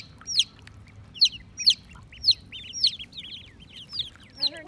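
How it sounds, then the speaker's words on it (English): Chickens and a Swedish Blue duck on a farm give a run of about eight sharp, repeated clucks and squawks at a steady pace, close and clear over a quiet background. "I think it's a Swedish blue duck"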